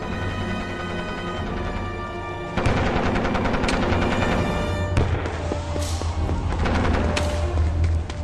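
Dense jungle battle gunfire rattling over a loud, busy background, with rapid shots and booms layered throughout, no speech.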